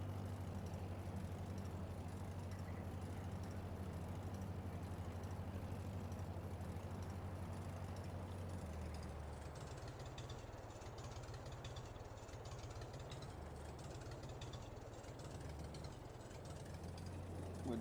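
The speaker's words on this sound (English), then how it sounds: "Would be nicer if this tractor responded better to steering and wouldn't be so sensitive to it." A tractor engine in Farming Simulator drones steadily at a low, even pitch throughout, with a slight drop in tone partway through as it keeps running.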